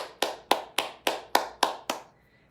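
Seven crisp, evenly spaced claps from a hand patting firmly along the arm, each slap sharp and bright with a short ring, followed by near silence.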